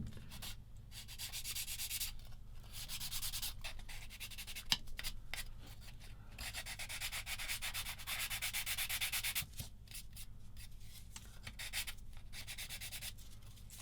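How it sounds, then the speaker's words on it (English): A part from a Tamiya 1/35 SdKfz 222 plastic model kit being sanded, light rhythmic rubbing strokes in close, scratchy bursts with brief pauses between passes and one small knock midway. "Just rub it over lightly without putting too much weight on it."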